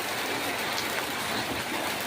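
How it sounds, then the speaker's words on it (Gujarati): Steady monsoon rain falls in a village, a dense, even hiss of drops on surfaces that runs without a break from start to finish, loud and close with no voices. "ચાલુ વરસાદમાં આજે જવું પડશે"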